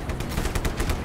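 Rapid gunfire in the video game Just Cause, a quick burst of repeated shots in a tight rhythm, loud and close, with no talking.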